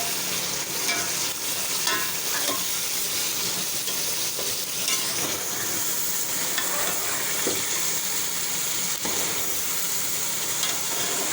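Beef nalli biryani sizzles and fries steadily in a pot while being stirred, a continuous close hiss with scattered scrapes and clinks throughout, no voices.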